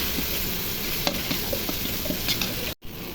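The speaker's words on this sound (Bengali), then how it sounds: "নেড়ে চেড়ে ভাজা ভাজা করবো।" Ginger-garlic paste sizzles steadily in a pan as a utensil stirs with light scraping clicks, ending with a brief abrupt cut.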